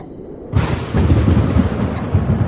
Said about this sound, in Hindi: अचानक तेज बारिश शुरू हो गई, बिजलियां कड़कने लगी